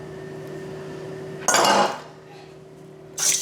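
Eggs and yolks whisked in a salad bowl for crème caramel, two short bursts of utensil clatter against the bowl over a steady background hum.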